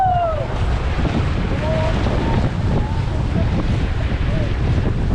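Ganges river rapids churn and splash around a raft at Shivpuri near Rishikesh, a loud, constant roar of rushing white water with wind buffeting the microphone throughout.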